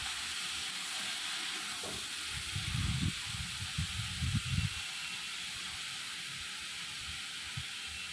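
Cucumber pieces stirred into hot tempering oil give a soft, steady sizzling hiss, with a few muffled stirring scrapes in the middle; no one speaks.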